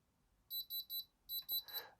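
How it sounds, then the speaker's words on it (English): A gemstone tester gives a short run of high electronic beeps when its reading is done: three quick beeps, a brief pause, then three more. The beeps are clear and close, followed by a soft rustle. "get a little beep when it's done."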